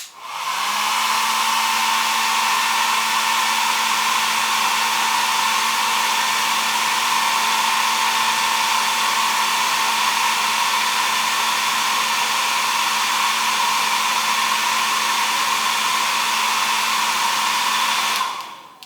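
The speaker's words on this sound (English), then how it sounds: "I can hit it with the hairdryer." An inexpensive hairdryer runs continuously on paint on a wine glass, a steady loud whooshing airflow with a constant motor hum, starting and stopping cleanly with no talk.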